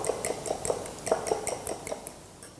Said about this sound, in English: we have to beat the eggs